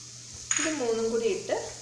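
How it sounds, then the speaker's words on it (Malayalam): Coriander, chili and turmeric powders sizzling as they are stirred in a hot pan for okra curry, a short burst of frying with a spoon scraping near the end. "3 കൂടി ഇട്ട് നന്നായിട്ട് നമുക്കൊന്ന് വഴറ്റിക്കൊടുക്കാം"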